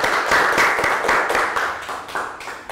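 A class of children gives a round of applause, a burst of dense, lively clapping that stays close and loud for a few seconds before tapering off slightly, with no talking over it.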